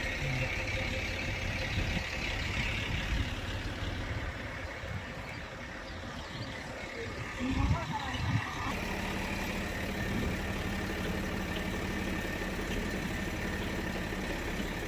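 Two farm tractors run continuously at moderate, steady level during moong sowing in a field, a constant low engine drone with a brief louder bump midway, no talk.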